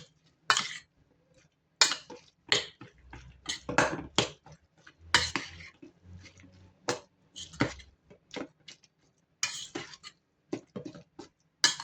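A spoon stirs a tofu puff mixture with onions in a bowl, making quiet, irregular clinks and scrapes against the bowl with short pauses between strokes.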